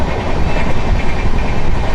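A train running on rails heard from inside a carriage, a loud, steady rumbling roar with continuous low mechanical noise and no voices.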